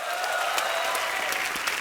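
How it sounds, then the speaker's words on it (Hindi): Studio audience applause on a comedy talk show set, a dense and sustained burst of clapping from a large crowd that stays loud and steady throughout, with no talking over it. "जोरदार तालियां।"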